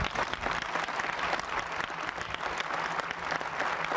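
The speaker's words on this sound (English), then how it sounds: "Give them a round of applause." An audience at a college anniversary celebration gives a round of applause, dense and fairly loud clapping from many hands that holds steady throughout, with no voices over it.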